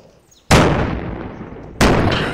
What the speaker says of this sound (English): Shit, lots of grenades are going on.